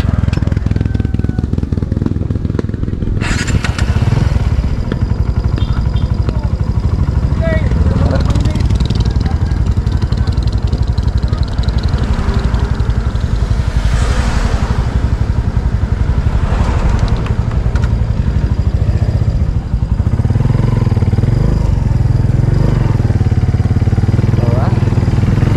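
Motorcycles running at a house construction site, loud continuous engine drone and revving close by, with people talking over it throughout.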